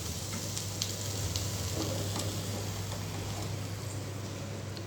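Coriander leaves sautéing lightly in a pan, a steady, even sizzle with faint soft stirring clicks over a low constant hum, with no voices.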